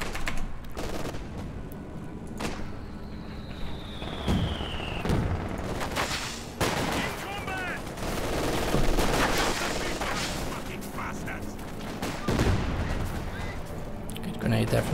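Gunfire and grenade blasts from the Company of Heroes 2 strategy game, with rapid rifle and machine-gun bursts, booming explosions and a whistling shell over dense battle noise, while commentators talk throughout.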